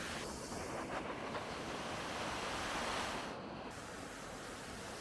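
Değirmendere waterfall pouring over rocks, a steady broadband rushing roar of water that stays constant and fairly distant throughout, with no voices.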